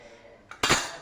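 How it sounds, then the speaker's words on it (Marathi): Cumin seeds dropped into hot oil in a pan while cooking masale bhat: a brief soft rattle, then a sudden bright sizzle that flares up and keeps crackling close by. "तेल गरम झालेलं आहे। आता यामध्ये आपण जिरं घालून घेऊ,"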